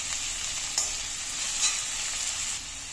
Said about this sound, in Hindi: और जब तक ये प्याज भुन रहा है